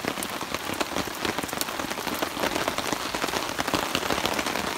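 Steady rain falls outdoors on a rainy day at a campsite, a dense close patter of drops hitting surfaces, continuous and fairly loud with no talk.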